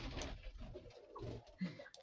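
Pigeons coo softly outdoors in a few low, rounded, murmuring calls, faint and slightly distant, with no talk over them.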